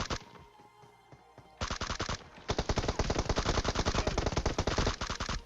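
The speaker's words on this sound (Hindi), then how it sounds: "तो भाई यहाँ पे जंप शॉट ट्राई करता हूँ मैं।" Rapid automatic gunfire from a mobile battle-royale shooter played on an iPad Mini 5, a short burst followed by a long loud sustained stream of shots, close and clear.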